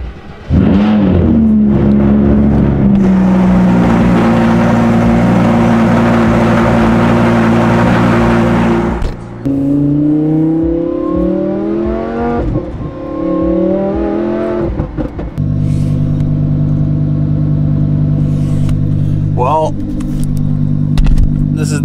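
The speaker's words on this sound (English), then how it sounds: "This is by far the earliest I've ever started this car here. And well, you guys know what it's like. It's loud." A loud supercar engine cranks and catches, then revs hard and settles into a rumbling idle with rising and falling revs; someone talks over it at times.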